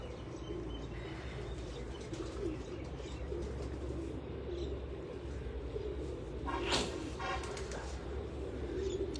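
Faisalabadi pigeons cooing softly amid the faint murmur of a loft, with a brief flutter of wings near the end.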